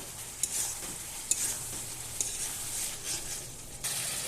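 Country chicken curry sautéing in a pan, a soft steady sizzle with occasional spoon clinks and scrapes while it is stirred, fairly quiet and without talk.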